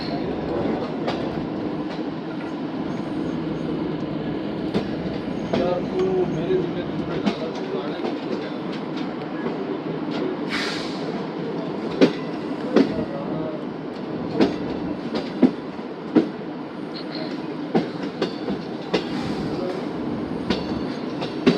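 Pak Business Express passenger train running between Multan Cantt and Rohri Junction, a steady rumble with repeated clickety-clack wheel beats and occasional sharp knocks, heard from inside the carriage with some background voices.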